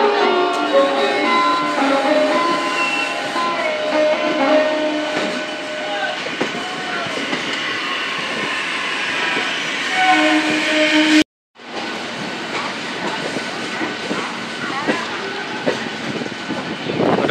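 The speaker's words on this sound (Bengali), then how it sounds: "ট্রেন ছেড়ে দিয়েছে হাওড়া স্টেশন থেকে" A Howrah–Belur Math local train pulls out of Howrah station, a steady loud rumble of wheels and carriages with clattering rail noise throughout and a brief dropout near the end.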